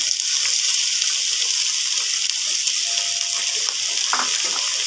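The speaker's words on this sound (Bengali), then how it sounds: "এর মধ্যে দিয়ে দিচ্ছি আমি বিচিগুলো তেলের মধ্যে ছেড়ে দিচ্ছি" Bottle gourd seeds sizzle steadily in hot oil, a continuous bright frying hiss with faint stirring scrapes, fairly close and without any voices.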